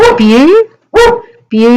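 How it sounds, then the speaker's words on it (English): A dog barks close and loud indoors in three tonal, yelping barks with short gaps between them, heard alone. "sorry about my dog barking there"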